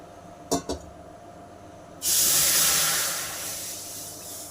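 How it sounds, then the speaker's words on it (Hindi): Milk poured from a glass into a hot pan while making bread barfi: two quick clinks, then a sudden loud hiss and sizzle that slowly fades but keeps going to the end. "अब डालते हैं इसमें दूध, गिलास से नाप के डालेंगे।"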